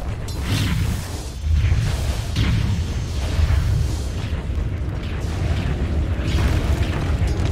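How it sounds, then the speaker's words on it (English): In-game battle sounds from a Dota 2 match as a tower comes under attack: a dense, loud stream of booms, bursts and whooshes rolling on without pause, with no voices. "Dire's bottom tower is under attack."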